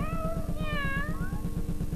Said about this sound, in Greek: Και η Μπεθ νόμιζε πως η γατούλα της θα σε διασκεδάσει